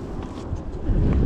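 Wind buffets a fishing boat out on the water in a steady low rumble that swells and grows louder toward the end, with no voices.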